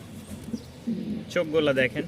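Danish pigeons cooing softly near at hand, low burbling coos under someone talking, with other birds chirping lightly in the background.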